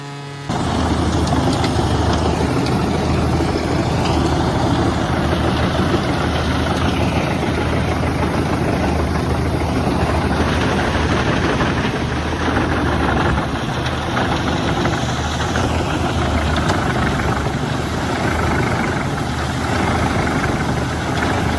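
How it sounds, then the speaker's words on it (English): A wood crusher driven by a bright red Fendt 1042 Vario tractor with an Eschelbach Biber 92 runs in a village area of Albstadt, its heavy engine droning loudly and steadily with a low rumbling roar. "the engine's roar blending with the crunching sound of wood being shredded"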